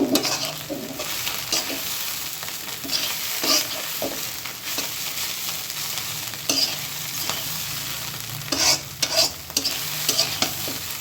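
Radish greens being stir-fried dry in a pan, a steady close sizzle broken by repeated scraping and stirring strokes of a spatula throughout, with no talking.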